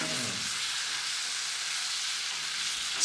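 Jamaican pepper shrimp fry in a pan with a steady, bright, close sizzle that runs the whole time, alone and with no talk.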